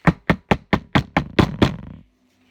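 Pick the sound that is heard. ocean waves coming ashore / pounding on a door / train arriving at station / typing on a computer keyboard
pounding on a door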